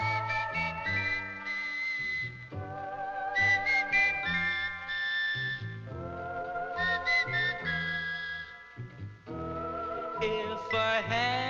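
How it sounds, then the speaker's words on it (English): A man whistles a melodic tune in clear, sustained phrases with brief pauses between them, from a 1962 B-movie soundtrack, fairly close with no talking over it. "Oh, he's whistling."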